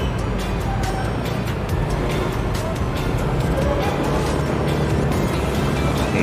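Dense road traffic rumbles steadily and loud near a motorcycle rider in Caloocan, a broad low engine and tire roar with a truck merging into the flow and no clear gaps.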